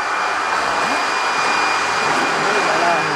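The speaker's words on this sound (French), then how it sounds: "je passe l'aspirateur bien à la verticale, comme ceci, et je l'allume." A vacuum cleaner runs with a loud, steady high-pitched whine and airy roar throughout, continuous and close, with faint voices beneath.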